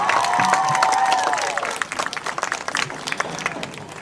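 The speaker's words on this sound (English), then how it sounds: "Let's give a big round of applause to our 2020 and 21 dance team seniors." Crowd applause and cheering at a high school football pregame in Indiana, Yorktown vs Muncie Central, honoring the dance team seniors: dense, steady clapping with bright whistles early on, gradually thinning toward the end.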